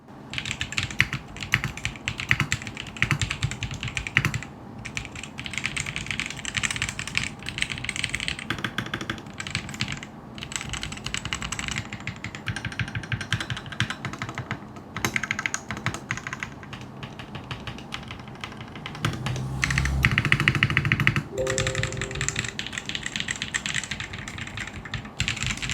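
Continuous clacky typing up close on a Vortex Mono Series keyboard, dense keystrokes rattling along with a couple of slightly heavier moments near the end.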